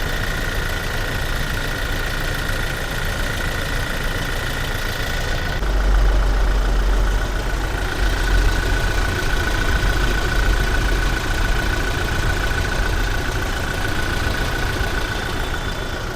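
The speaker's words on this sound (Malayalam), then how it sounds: "നോർമൽ എൻജിൻ കണ്ടീഷൻ, നോർമൽ സൗണ്ടാണ്, സാധാരണ ഉള്ള സൗണ്ടാണ്." A 2017 Toyota Fortuner 4x4 diesel engine idling at close range, a loud, steady mechanical drone with a constant tone that holds unchanged throughout, alone without any talk.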